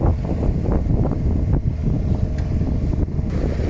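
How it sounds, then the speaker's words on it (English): A steady sailboat engine drones on the Irish Sea while gusty wind buffets the microphone, a continuous low rumble with no voices. "I'm not sure if you'll hear this okay between the wind and the noise of the engine"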